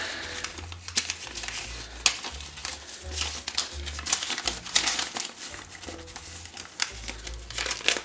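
Paper crinkles and rustles up close in quick bursts as a birthday envelope is readied with a small card and cash tucked inside, with a low hum underneath.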